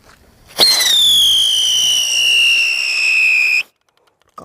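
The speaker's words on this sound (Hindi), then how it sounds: "अब टेस्ट करते हैं इस अनिल की विस्लिंग व्हील का और देखते हैं ये कैसी चलती है" An Anil brand whistling wheel firecracker set off at Diwali lets out a loud, shrill whistle that starts abruptly with a crack. It holds a steady, slightly falling pitch for about three seconds, then cuts off, followed by quiet.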